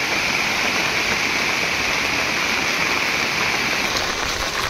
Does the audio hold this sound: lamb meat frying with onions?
no